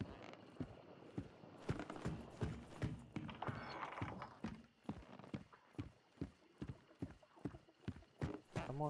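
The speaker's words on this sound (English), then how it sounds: "Someone aggro the horse over here." Horse hooves clip-clop in steady, rhythmic steps in the Louisiana bayou setting of the video game Hunt Showdown, fairly faint and continuous with no talk over them.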